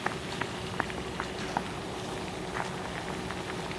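Pot of water at a rolling boil while palitaw rice cakes float and cook, a steady close bubbling hiss with small soft pops, no talking.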